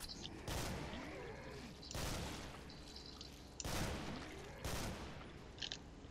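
Gunfire from the video game Killing Floor comes in four heavy bursts of rapid shots, each ending in a ringing tail, loud and close, spaced about a second and a half apart.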